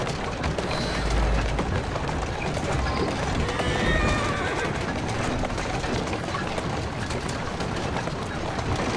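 Hooves clatter and a horse whinnies in the video game Assassin's Creed Syndicate, set beside the River Thames, amid a dense, noisy mix of rumble and commotion that runs loud and steady throughout.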